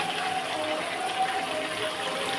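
Water pours steadily into a pan of frying mutton curry, a continuous close rushing gush with a hissing, sizzling wash and no break over its short length.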